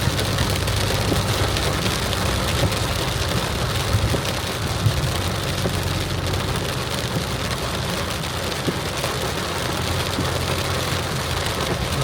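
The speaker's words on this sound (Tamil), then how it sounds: "செம்ம மழை பெய்யுது." Heavy rain pours down on a car driving along a highway at night, a dense, even wash of drumming on the body and windshield that stays loud and constant throughout, with no talk.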